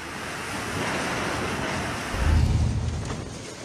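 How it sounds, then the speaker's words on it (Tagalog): Typhoon wind and heavy rain make a dense, continuous roaring rush buffeting the microphone, swelling into a stronger low gust midway before easing slightly. "Sa lakas ng hangin, halos matulak ang dalawang lalaking ito na pinilit sinuong ang malakas na ulan."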